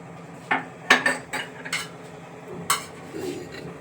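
Metal utensils knocked and clinked together while being washed, several sharp close clatters and clanks spaced irregularly over a quiet background.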